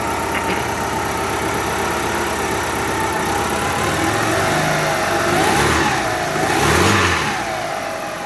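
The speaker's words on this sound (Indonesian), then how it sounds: "Jadi engine-nya langsung hidup, tidak ada masalah." Car engine idling steadily right after starting, with a couple of light revs rising near the end, close and continuous with no talk.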